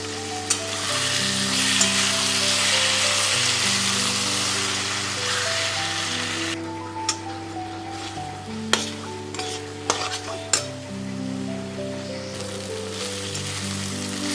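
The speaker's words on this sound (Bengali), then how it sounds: "ভালো করে আমি এটা কষানোতে মিশিয়ে নেব।" Boiled rajma stirred into a frying masala in a pan, loud continuous sizzling with scraping strokes of a spatula and a few sharp clacks against the pan, with a steady background hum underneath.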